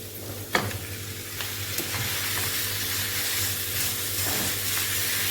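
Minced beef and onion stir-frying in oil for a meat pie filling: a steady close sizzle and hiss, with scraping stirs and a sharp knock near the start.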